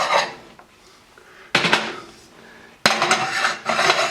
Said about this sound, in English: I'm going to switch this pan out